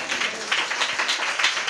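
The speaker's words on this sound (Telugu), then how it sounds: "గట్టి చప్పట్లు కొట్టు." A church congregation claps hard together in a dense, brisk burst of applause that keeps a quick pulsing rhythm throughout.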